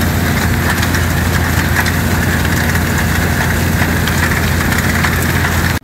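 Ag bagger rotor turning and packing chopped corn into a silage bag, a steady loud low mechanical drone with engine rumble running unbroken, then cutting off abruptly at the end.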